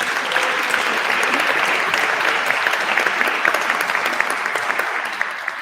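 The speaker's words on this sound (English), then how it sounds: "A round of applause for everybody." A round of applause at a student-led teaching awards ceremony, full and steady clapping from a sizeable audience, even in loudness from start to finish with no speech over it.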